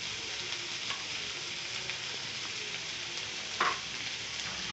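Food sautés in a pan before curry leaves go in, giving a steady, fairly quiet sizzle with a short utensil clink partway through.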